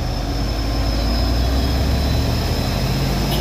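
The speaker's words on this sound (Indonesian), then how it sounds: "satu minibus menyalip dari kanan" A minibus overtakes from the right on a road near a hill, its engine drone loud and steady through a dense, continuous rumble of traffic and engine noise, with no talking.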